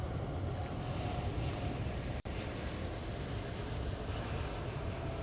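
A Boeing 787 Dreamliner at Heathrow Airport produces a steady, broad engine roar, loud and continuous throughout, broken only by a single brief dropout.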